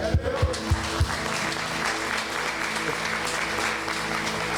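A church congregation applauds steadily as a dense, sustained wash of clapping, with a few louder close claps near the start and a low hum of the room underneath.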